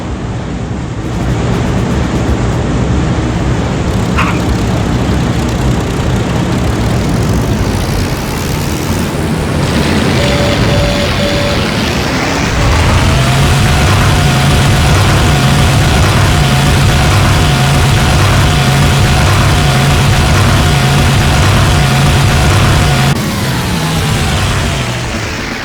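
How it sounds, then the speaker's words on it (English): WWII fighter aircraft engines in Heroes of the Pacific throttle up, a steady loud droning roar that rises in pitch and intensity midway and holds at a higher whine, with wind-like rushing noise throughout. "Okay, boys, throttle up."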